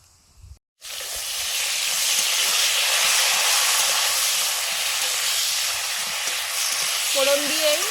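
Cauliflower, whole flat beans and other vegetables frying in a pan give a loud, steady, close hissing sizzle that starts abruptly and holds without a break, with a faint tonal squeak near the end.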